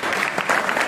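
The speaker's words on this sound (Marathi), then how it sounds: "म्हणून म्हणतो जोरदार टाळ्या क्लॅप तुमच्याकडे होऊ द्या." An audience at a district technical exhibition at a government industrial training institute claps in a brief burst of dense, lively applause.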